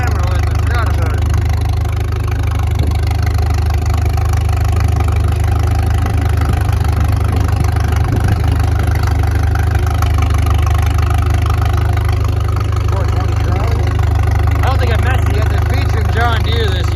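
An antique John Deere tractor engine running steadily at an outdoor antique power show, a loud constant low rumble with clattering mechanical texture throughout, people talking faintly under it.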